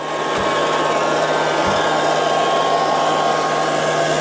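A Liectroux B3000 robot vacuum cleaner runs with a steady, continuous whirring hum that stays even throughout, with two brief soft knocks near the start.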